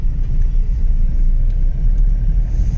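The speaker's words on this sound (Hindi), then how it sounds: "इंजन की साउंड आपको काफी कैबिन में महसूस होगी" Inside the cabin of a 2012-18 Hyundai Xcent S base-model diesel, the engine gives a loud, steady low rumble and drone throughout, with no one speaking.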